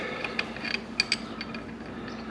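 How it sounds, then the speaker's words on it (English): A 1/2 inch wrench tightens a lock nut on a Harley lever, giving a few faint metallic ratcheting clicks and small ticks spread over two seconds, close up and quiet with no talk. "threading the lock nut back down, going to take the 1/2" wrench"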